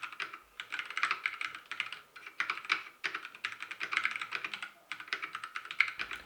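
Rapid, steady keystrokes on a Ducky mechanical keyboard, clicking in quick bursts with brief pauses between runs, close and alone without any talk.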